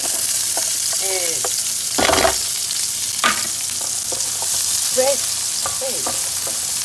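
Green onion hits chicken fried rice in a hot pan, loud continuous sizzling with scraping stirs and spatula knocks, plus faint chirps in the background.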